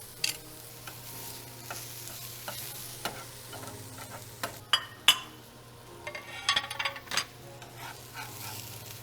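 Chopped Philly cheesesteak meat frying in a pan, a steady close sizzle with scraping stirs and occasional metallic clinks of a utensil against the pan, and no talking.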